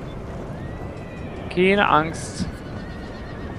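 A horse from cavalry in Napoleon: Total War gives one loud, close whinny with a rising then falling tremolo, heard over steady battle ambience while someone speaks German just before it.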